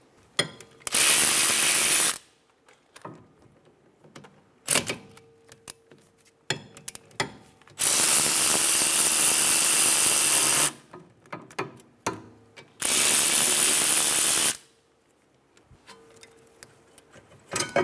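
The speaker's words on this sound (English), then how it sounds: "Using a 12mm socket, remove the caliper bolts." A ratchet with a 12mm socket loosening rear brake caliper bolts on a 2013–2017 Honda Accord, heard as three long bursts of fast, loud clicking separated by quieter clinks and handling noises.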